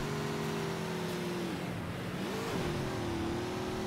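A Halo 2 Anniversary Gun Goose vehicle engine revs loudly like a race car, its pitch dipping midway and then climbing back in a steady, continuous whine with no talking.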